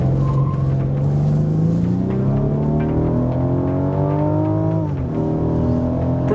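A 2014 Rolls-Royce Wraith, a heavy luxury coupe, accelerates with a smooth, rising engine drone that climbs in pitch, dips briefly at a gear change and then builds again. The sound is heard from inside the car, loud and steady.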